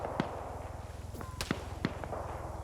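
Distant gunshots in a video game firefight, a few sharp scattered cracks over a steady rhythmic mechanical pulsing hum.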